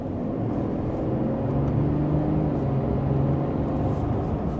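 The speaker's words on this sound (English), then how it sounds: "We can use the paddle shifters, give it an acceleration." A 2025 GMC Sierra 1500 AT4X AEV Edition turbo diesel accelerates in sport mode with paddle shifts: a steady, loud engine drone heard from inside the cab, its harmonic pitch slowly rising and holding throughout.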